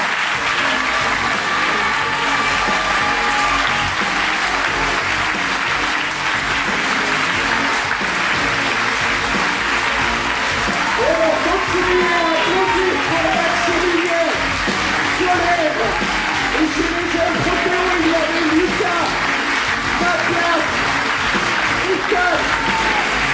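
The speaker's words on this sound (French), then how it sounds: "je veux que vous applaudissiez Yola, Mathéo, Maëlys et Amanda" A festival audience at a French final-night show applauds the performers Yola, Mathéo, Maëlys and Amanda, sustained loud clapping with scattered cheers and voices mixed in for the whole stretch.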